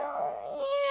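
A person's voice imitates a cat with one short, close, rising meow.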